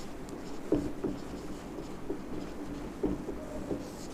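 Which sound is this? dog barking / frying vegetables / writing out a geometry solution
writing out a geometry solution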